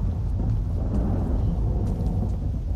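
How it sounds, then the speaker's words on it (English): A low, continuous thunder rumble rolls through a stormy scene in the horror game Stay With Us, dense and boomy with a faint rain-like hiss above it, steady throughout with no voices. "Okay, Thunder, calm down."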